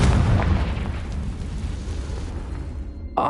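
A Confringo spell explodes in a Harry Potter video game as one loud, rumbling blast that fades over a few seconds.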